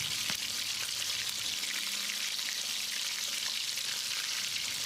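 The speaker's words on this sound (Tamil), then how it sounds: "காளானில் ஈரப்பதம் இருக்கிறதால மேலே தெரிக்கும், அதனால் எண்ணெயை கொஞ்சம் குறைவாகவே வச்சுக்கோங்க" Moist mushrooms fry in shallow oil for a restaurant-style pepper fry, giving a dense, continuous sizzle with constant fine crackling spatter, close and fairly loud, with no talking.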